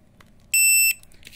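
An RFID hidden-drawer electronic lock on a wooden cabinet gives one short, clear, high-pitched beep after being reset, against a quiet room background.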